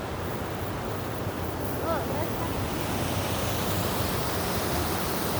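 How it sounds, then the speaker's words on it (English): Water rushes steadily over a dam in a quiet scenic spot, a dense unbroken roar with wind mixed in and a faint bird call at one moment. "I love to see or hear water moving constantly."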